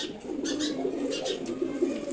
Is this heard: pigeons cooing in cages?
yes